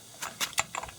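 Torque wrench tightening a wheel bearing hub bolt on a 2000 Chevy truck, set to 165 foot-pounds: a quick run of four or five sharp ratcheting clicks close up, then a final click.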